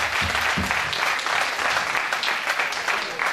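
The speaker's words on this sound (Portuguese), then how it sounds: "para a Rádio e para esta fabulosa festa, uma grande salva de palmas" Audience applause at a radio station's Christmas party, loud, dense clapping filling the whole stretch, with a brief low murmur of voices early on.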